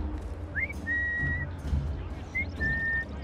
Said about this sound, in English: That whistling has to stop.